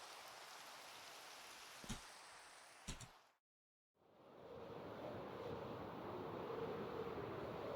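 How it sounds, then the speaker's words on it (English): Steady hiss of rain falling in the Minecraft video game, soft and continuous, broken by two brief knocks and a short full silence before the rain noise returns. "Oh, it's raining out here."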